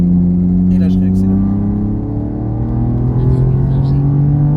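A race car accelerates hard around the Mireval track, its engine a loud, steady onboard drone with rising and falling harmonics, with faint chatter at the start.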